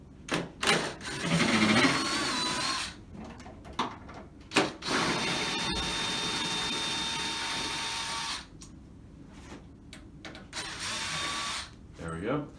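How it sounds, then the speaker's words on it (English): Screws are driven out of the mounting bracket on an Airocide HD-25000 series air purifier with a power screwdriver, making loud close whirring bursts broken by clicks and handling clatter, with brief talk in between. "So you'll need to remove this bracket prior to installation, as Leo's doing here."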